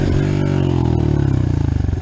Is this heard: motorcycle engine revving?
yes